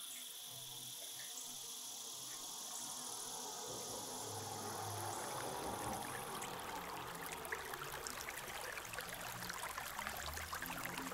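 A river sound effect plays through a role-play sound mixing interface: a steady, close rush of flowing water with a dense high hiss, continuous and fairly quiet, with no talking.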